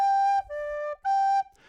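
A recorder plays three clear sustained notes of a short tune alone, with a quick ornament on the G, sounding bright and close.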